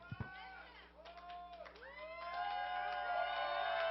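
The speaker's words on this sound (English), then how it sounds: "The crowd are going wild for Kyle Hawk." A wrestling event crowd whoops and cheers, rising in volume over a few seconds, with excited shouts carrying in a large room and a commentator's voice partly mixed in.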